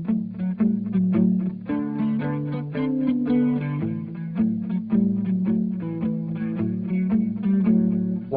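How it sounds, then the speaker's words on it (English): Blues shuffle pattern on guitar, a loping, swung rhythm of chugging low-string notes repeated steadily, played clean to lightly driven and close, with no voices. "a what's called a shuffle pattern."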